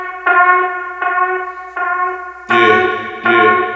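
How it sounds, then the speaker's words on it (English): A bright, bell-like synth chord repeats in pulses, each hit smeared with echoing delay repeats and a washy reverb tail, ending in a louder, denser burst. "Reverb, tap delay. Basically gives you this vibe."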